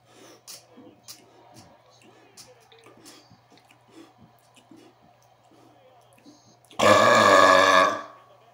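A single loud, long burp after drinking water bursts out near the end, lasting over a second, following quieter rustling and faint background sounds.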